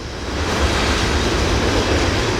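A train passing close by a forest at night, with loud, continuous rolling rumble and faint clatter of wheels on rails that swells in quickly and stays steady.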